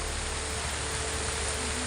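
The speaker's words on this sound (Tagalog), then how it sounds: "sobrang lakas ng ulan" Heavy rain pours steadily as a dense, hissing wash of noise, constant and unbroken, with no voices.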